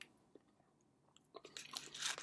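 Crunching bites into a Chips Ahoy cookie from a plastic tray, a couple of faint crisp bites at first, then louder close chewing crunches building toward the end.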